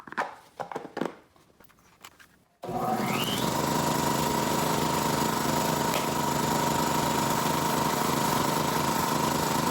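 Kobalt air compressor running with its intake filter removed, starting abruptly after a few seconds of quiet knocking and handling, then a loud, steady, close mechanical drone and hiss that continues to the end; no talking.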